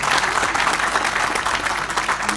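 A room full of journalists in Peshawar applaud at a press event, a dense, loud, continuous burst of clapping with faint crowd murmur.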